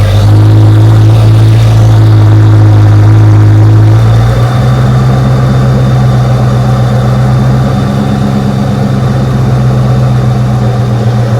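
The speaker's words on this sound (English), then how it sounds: "You can hear that engine smooth out a little bit as I get it up around 10." A Ford 5.0 V8 idles loud and close after a distributor replacement, a steady low throbbing rumble that shifts to a smoother, slightly different tone partway through.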